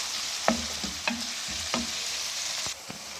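Onion and garlic sizzle softly in a pan under a steady hiss, with a few light spoon taps and stirring scrapes at irregular intervals; no one speaks.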